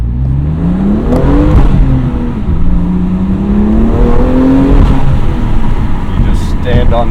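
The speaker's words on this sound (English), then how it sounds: "Stand on the pedal and the car is just so quick." A BMW M2 CS accelerating hard, its engine note climbing steadily through the revs with a loud, close, continuous drone and rising whine heard from inside the cabin.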